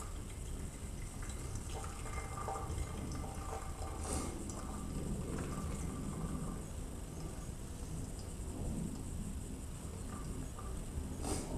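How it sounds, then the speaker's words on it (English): Water poured slowly and steadily over coffee grounds during a manual pour-over brew, a continuous close trickle and splash running unbroken with no talking. "Now I like to do a nice slow controlled pour, kind of start towards the middle and then work towards the outside until I get to 86 grams."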